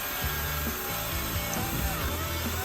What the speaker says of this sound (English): she's struggling just a little bit to get that branch cut